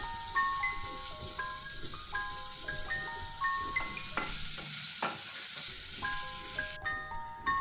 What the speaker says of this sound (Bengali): পনিরগুলো দিয়ে দিচ্ছি, একটু ভাজা ভাজা হবে।